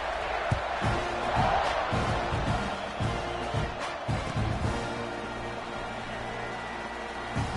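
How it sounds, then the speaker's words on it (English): Large football stadium crowd at a South Carolina versus Texas A&M game, a steady loud roar and buzz after a score, with scattered shouts and thumps throughout. "this crowd is buzzing after that last score"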